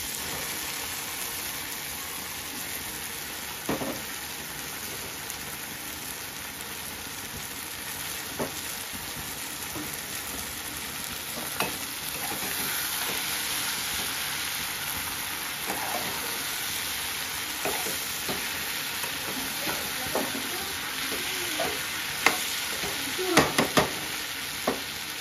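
Eggplant frying in fish oil gives a steady, close sizzle and hiss throughout, with occasional light stirring clicks and a few sharper pops near the end.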